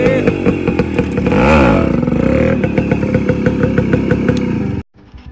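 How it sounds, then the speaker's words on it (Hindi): A motorcycle in a rural village idles loudly up close, swells through a brief rev, then settles into a throbbing idle before cutting off abruptly. "ये है हमारी गांव की पहली बाइक और हम जाने वाले हैं इस पर"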